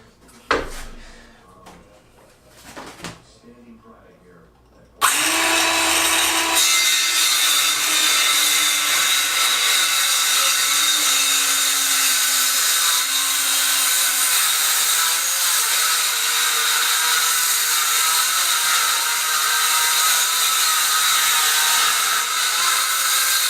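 A power saw cutting through the end of a wooden pallet: a few seconds of handling knocks, then the saw starts abruptly and runs as a loud, steady, close-up buzzing whine for the rest of the time.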